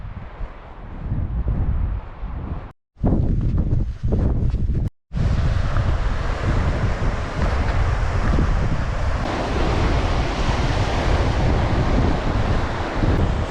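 Waves and surf roll onto White Sands Beach on the Pembrokeshire coast, a broad constant roar mixed with heavy wind buffeting the microphone.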